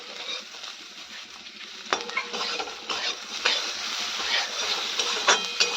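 Fish sizzling as it fries in a pan, steady close crackle broken by several sharp utensil scrapes and clinks against the pan.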